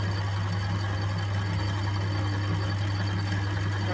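A vintage Atlas lathe runs steadily while machining a part, giving a constant loud motor hum with a strong low drone and continuous mechanical whir, with no breaks or talking.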